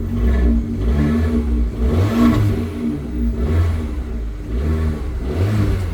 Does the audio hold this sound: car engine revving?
yes